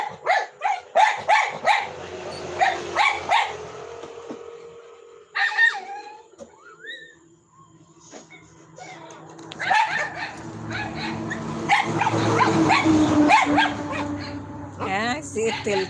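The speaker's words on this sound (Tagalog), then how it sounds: "Ang ingay ng aso ko." A pet dog barks and yips in repeated short bursts early on, then whimpers and barks again amid household noise, with people talking throughout.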